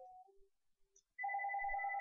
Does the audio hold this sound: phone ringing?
yes